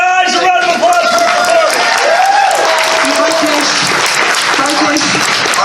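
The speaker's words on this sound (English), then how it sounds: "a round of applause for" Loud crowd applause at a comedy show, steady clapping mixed with cheers and whoops, with chatter and voices rising through the noise.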